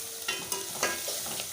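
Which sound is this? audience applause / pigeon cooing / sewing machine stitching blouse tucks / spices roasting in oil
spices roasting in oil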